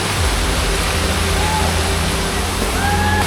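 Suptadhara waterfall in Sitakunda, Bangladesh, rushes downhill during rain, a loud, close, constant roar of churning water with a couple of thin whistling tones rising briefly above it.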